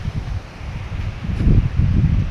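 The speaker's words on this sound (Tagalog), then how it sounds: "lakas ng hangin" Strong wind buffets a microphone while a rider travels near the Catmon - San Vicente Bridge, a steady rumbling roar that swells louder toward the end with no talking.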